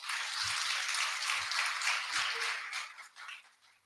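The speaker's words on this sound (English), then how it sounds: "Let's give her a round of applause." Audience applause at a regional adolescent health meeting, a thin patter of clapping that holds steady and then fades out toward the end, with a few low thumps beneath it.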